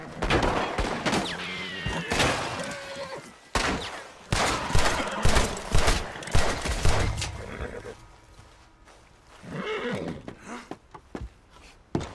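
Bursts of gunfire crack out in Red Dead Redemption II, mixed with horse whinnies and hoofbeats, in dense volleys over the first half and then thinning to scattered shots.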